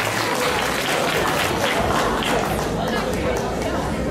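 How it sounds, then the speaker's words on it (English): An audience at a women's association charity gala dinner gives a round of applause, dense continuous clapping mixed with crowd chatter and movement, sustained at full strength throughout. "Let's give Nancy a wonderful round of applause."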